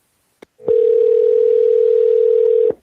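Telephone dial tone before a cold call to a real-estate seller: a faint click, then one loud, steady, unbroken tone lasting about two seconds that ends abruptly, with no voices.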